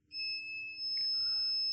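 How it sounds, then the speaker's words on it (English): A multimeter in continuity mode, probing a Lenovo IdeaPad S145-15IKB laptop board, gives a steady electronic beep that holds for about a second, then a second tone follows, clear and close in a quiet room. "if you put on the beeping mode, obviously it's beeping to ground."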